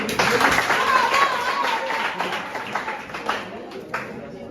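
Audience clapping at a basic schools science and mathematics quiz final, a dense steady patter that slowly thins over several seconds, with faint voices mixed in.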